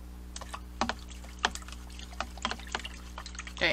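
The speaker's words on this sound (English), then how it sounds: "I'm rinsing my brush again" A paint brush rinsed in water, with soft splashing and irregular clicking taps against a container, faint and close over a low steady hum.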